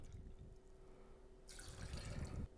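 Bourbon is poured into a cocktail glass for a smoked lavender old fashioned, a soft, quiet liquid stream that starts midway and runs for about a second.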